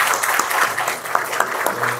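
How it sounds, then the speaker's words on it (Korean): A church congregation at a Sunday worship service in Tongyeong claps in welcome, a scattered, lively burst of applause with uneven hand slaps that holds steady for a couple of seconds before tapering. "박수 한번 하겠습니다."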